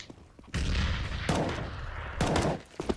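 Counter-Strike: Global Offensive gameplay with loud, close bursts of gunfire-like blasts, including what could be a grenade going off, in three sharp broadband hits separated by brief lulls.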